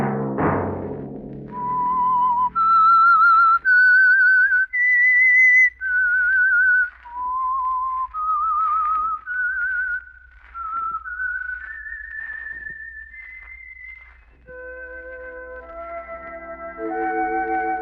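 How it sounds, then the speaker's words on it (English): A lone whistled melody, the theme of The Whistler radio program, rises and falls in a steady tune for most of the passage, loud and close, with soft instrumental tones entering near the end. "Let that whistle be your signal for the Signal Oil program, The Whistler"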